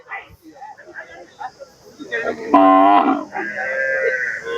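A cow lows once amid people talking at a traditional cattle market during the Kannapuram chariot festival, with other crowd noise around it.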